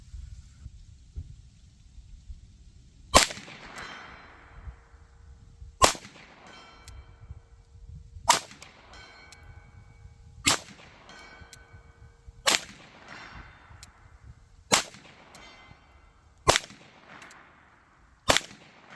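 Ruger Mark IV Hunter .22LR pistol firing cheap bulk ammunition outdoors, eight sharp, cracking shots spaced about two seconds apart, each followed by a short ringing decay over quiet background.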